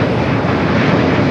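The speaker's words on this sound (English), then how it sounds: "777 arriving on the north side" A Boeing 777 airliner arriving at LAX produces a loud, continuous broadband roar that holds steady throughout without any break.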